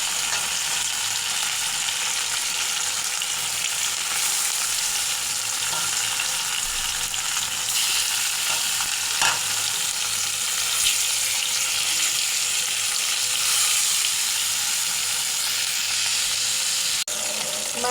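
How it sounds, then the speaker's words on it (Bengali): Tilapia fish coated with turmeric and salt fry in hot oil with a steady, dense sizzle. A few faint knocks and scrapes come through over about eighteen seconds, and no one speaks. "হলুদ লবণ মেখে দিয়ে মাছ ভাজা করব।"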